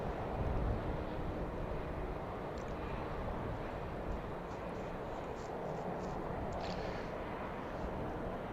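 A British Airways Airbus A320 departing Heathrow for Milan, a steady distant jet rumble and rush that stays even throughout, fairly faint with no clear peak.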